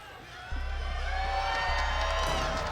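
Esports arena crowd at a grand final letting out a sustained, delayed cheer of whoops over a steady low hum, rising after a quiet start and staying loud.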